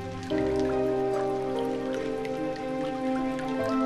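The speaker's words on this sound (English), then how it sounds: "A big rain front is moving over the country" Rain falls steadily through a wet, cold spring forest, a continuous patter of drops that stays fairly loud and even throughout, with no voices.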